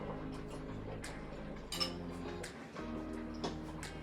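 A spoon stirs a pot of Zuppa Toscana soup, giving light metallic clinks and scraping against the pot with a few sharper knocks, close and moderately loud, with no talking.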